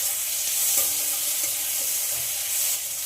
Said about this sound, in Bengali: টমেটো গলা অবধি একটু সব কিছু ভেজে নেব